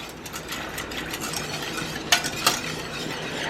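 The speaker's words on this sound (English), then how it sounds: "we're going to go ahead and stir that into that cream" A spoon stirs half a teaspoon of paprika into cream in a pan on the stove, a soft steady swishing with two brief sharp clinks of metal against the pan.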